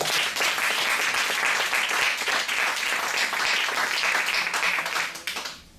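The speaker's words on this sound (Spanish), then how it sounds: "Un aplauso" Audience applause at a talk and open discussion session, dense and steady for several seconds before tapering off at the end.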